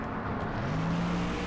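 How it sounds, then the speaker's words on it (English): Race cars lapping the track in the video game NASCAR Thunder 2004, a steady loud engine drone with a rising whine as a car accelerates. "Careful, there's some cars entering the track ahead."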